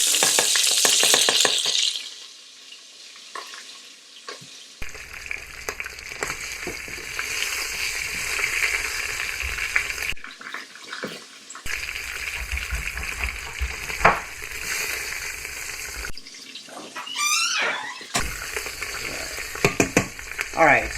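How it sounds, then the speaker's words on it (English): Lamb chops browning in oil in a pressure cooker pot, sizzling loudly with scraping and stirring clatter. The frying comes in several bursts broken by brief quieter gaps. "So we'll brown those up on one side."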